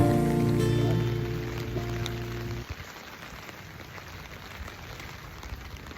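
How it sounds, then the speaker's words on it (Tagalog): A sunshower of rain patters steadily on surfaces at a cabin resort, a constant mid-level hiss of drops, while a low droning hum plays underneath for the first few seconds and then cuts off, leaving the rain alone. "Maaraw umuulan."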